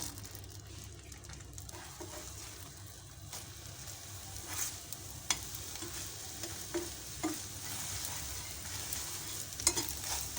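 Beaten egg with a pinch of salt, poured into a teaspoon of hot oil, sizzles and fries steadily in a pan for a courgette and egg bhujiya, with a few sharper clicks and stirring taps over the soft continuous hiss.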